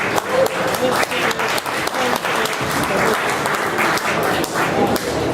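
Steady, loud audience applause at a Rails developer conference talk, dense clapping that continues evenly for several seconds with a few louder claps standing out.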